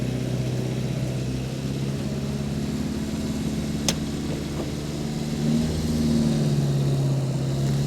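A 52-year-old Austin A30 barn-find car runs steadily with a low, continuous engine drone close by, rising slightly toward the end as it drives, with a single sharp click partway through.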